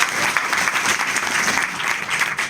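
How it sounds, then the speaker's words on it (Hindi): Loud, dense applause from a crowd at an opening ceremony in Uttar Pradesh, India, sustained evenly from start to finish with no voices standing out. "रामकुमार यादव जी के लिए एक बार जोरदार ताली बजाऊंगा"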